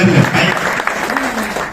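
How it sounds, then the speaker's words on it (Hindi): Loud applause from a seminar audience in Rohtak, dense and steady across the whole stretch, with a voice briefly audible over the clapping near the start. "एक बार जोरदार तालियां।"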